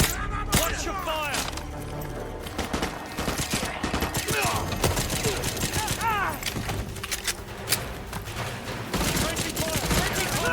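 Gunfire in MW2 Remastered during the Contingency mission, dense bursts of shots and mechanical clatter with a shouting voice over the fire.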